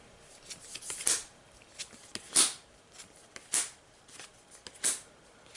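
Playing cards drawn and handled during a tabletop Marvel Legendary deck-building game: a few quiet, brief papery snaps and slides at irregular intervals against a soft room background.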